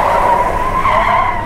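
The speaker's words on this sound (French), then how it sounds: "Le véhicule zigzague avant de plonger dans la Charente." A car skids and zigzags as it veers toward a river, tires squealing in a loud, sustained screech that wavers in pitch throughout, with no voices.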